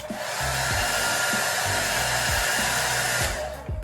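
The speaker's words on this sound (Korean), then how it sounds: "이렇게 드라이기를 켜준 상태에서 이렇게" A hair dryer blows with a steady, loud whooshing roar, its motor whirring continuously from start to finish, with a few soft low thumps underneath.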